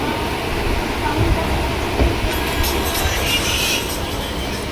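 A passenger train running from Kerala to Delhi, its steady, loud rumble and rattle filling the whole clip, with brighter rail clatter rising in the second half.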